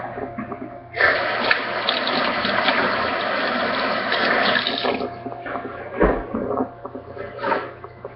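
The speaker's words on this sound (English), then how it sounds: "I'm going to wash my hands, and I'll be right back." Water runs from a tap during handwashing, a loud, steady hiss that starts abruptly and lasts about four seconds before cutting off, followed by faint splashes and small handling sounds nearby.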